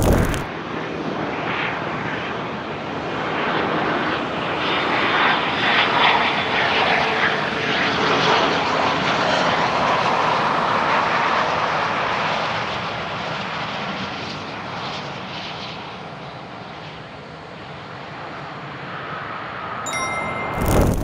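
Gulfstream G700 business jet with two Rolls-Royce Pearl 700 turbofan engines, heard as a loud, steady broadband roar with a high whine that swells and eases slightly over about twenty seconds, with no talk.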